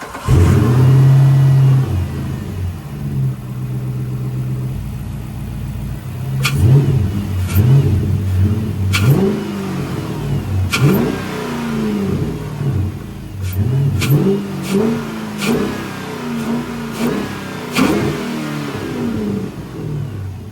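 A Chrysler 300 SRT fitted with a new cold air intake idles and then revs repeatedly up close, several sharp throttle blips rising and falling in quick succession over a deep steady idle.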